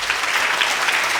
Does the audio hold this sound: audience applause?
yes